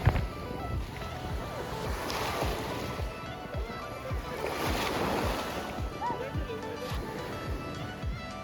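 Sea waves wash steadily onto a beach in Türkiye, a continuous close surf rush with rolling swells and light wind, no voices over it.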